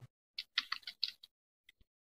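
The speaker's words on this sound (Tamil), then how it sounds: "இப்போ நான் பாமினியில் டைப் பண்ணி" Someone types in Bamini Tamil font on a computer keyboard: a quick, close cluster of crisp keystrokes, then a pause and a couple of sparse isolated clicks, all fairly quiet with no talking.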